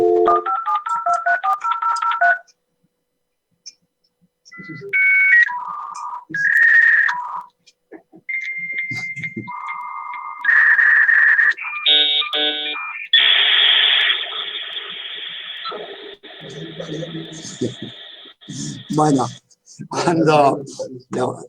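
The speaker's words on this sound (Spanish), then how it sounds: "Los primeros modem eran así, modem dial-up." A dial-up modem connects over a phone line: dial tones and DTMF beeps, then a sequence of handshake whistles, screeches and buzzing static bursts, loud and close with short gaps.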